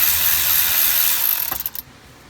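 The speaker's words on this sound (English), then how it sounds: "So we're gonna go ahead and get this unbolted." A wrench or ratchet backs out small 5.5mm bolts from a Ford flasher assembly during ignition switch housing lock module work, giving a steady close scraping whir that breaks into a few quick ratcheting clicks before stopping.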